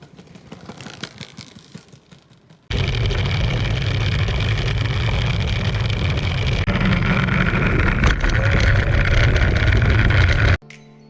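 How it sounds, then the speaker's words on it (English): The plastic rear wheel of a Kugoo S1 electric scooter gives a loud, harsh, steady rumbling vibration noise while riding, kicking in abruptly after a quieter start and cutting off near the end. "Kugoo S1 has a plastic rear wheel, which has excellent rolling resistance, but terrifying, terrible vibration and sound which many Kugoo users just hate"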